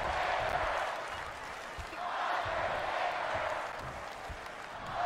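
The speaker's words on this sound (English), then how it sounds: "The crowd is cheering for the Undertaker." A wrestling arena crowd in a WWE video game roars steadily for the Undertaker, a broad, distant wash of cheering that swells and eases without a break.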